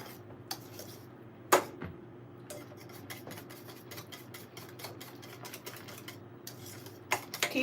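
Whisk stirring Jamaican-style peanut porridge in a pot over a medium flame, a steady patter of quick light taps and scrapes against the pot, with a sharper knock or two standing out over a low background hum.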